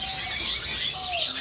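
Paired magpie robins (kacer) in a bird shop give a run of about six bright, rapid chirps that rise out of a low murmur of shop noise, with a whistle sliding in just before.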